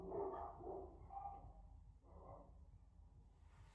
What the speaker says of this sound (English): other people's dogs are like barking like mad